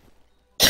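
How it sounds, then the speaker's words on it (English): A single sharp, loud cough bursts out at the end of a near-silent stretch, close to the microphone, during a late-night video game session. "So sorry for the coughing."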